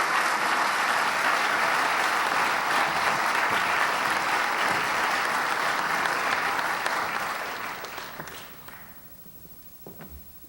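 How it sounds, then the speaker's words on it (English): An audience at a Martin Luther King Jr. commemoration at Utah Valley University gives a loud, dense round of applause welcoming a speaker, sustained for several seconds before tapering off into scattered claps and room noise. "a warm welcome of applause to you"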